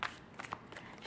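Soft, quiet riffling and papery flicks of tarot cards being shuffled close by, lasting about a second.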